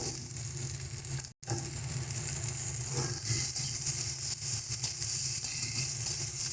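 Steady, loud sizzling of spices frying in a pan for a homestyle taro and shrimp curry, continuous crackling hiss with faint stirring scrapes and a brief dropout near the start.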